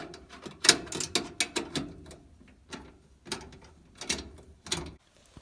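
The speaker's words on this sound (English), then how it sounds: "I'm just going to take my socket and kind of hand tighten them with the socket" A socket wrench ratchets in short bursts of sharp clicks while bolts are hand-tightened on a GE gas dryer during an LP conversion, with close, crisp clicking separated by brief pauses.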